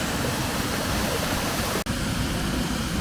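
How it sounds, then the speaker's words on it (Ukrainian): A small waterfall in the Bystrytsia river valley of the Carpathians gives a steady, close, broadband rush of falling water, even and continuous throughout with one momentary dropout. "А ось водоспадик."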